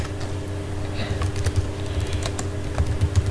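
Rapid, irregular computer keyboard typing as JavaScript code is written, close and fairly steady clicks over a low constant hum.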